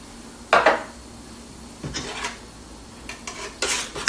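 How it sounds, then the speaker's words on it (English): A spoon scrapes and clinks against a mixing bowl as flour, cinnamon and baking soda are stirred into apple spice muffin batter, in a few separate bursts of scraping with quiet pauses between. "Just gradually add it in so the flour has a chance to get wet and really mix in there"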